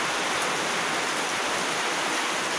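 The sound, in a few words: heavy rain in Masbate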